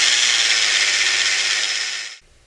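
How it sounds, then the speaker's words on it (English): Steady, loud whine of a drill boring slowly through a metal tripod adapter plate, holding one even pitch for about two seconds before stopping abruptly, with no talking. "We'll keep the drill nice and perpendicular on that spot, nice and easy,"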